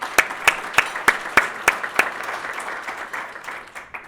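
A small audience at a family business awards event claps in a run of sharp, distinct, evenly spaced hand claps that gradually soften and scatter into lighter, fading applause.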